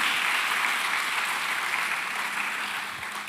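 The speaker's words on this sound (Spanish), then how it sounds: "Un aplauso para él." Applause from a church congregation during a Spanish-language sermon, a steady, dense wash of clapping that holds at full strength throughout without fading.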